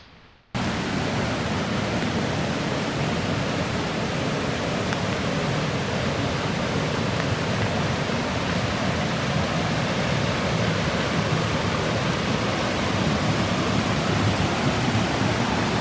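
A mountain stream rushes past the tent field of the Mae Sa Waterfall campsite in Doi Suthep-Pui National Park, a loud, dense, unbroken roar of flowing water that starts abruptly and holds steady with no voices.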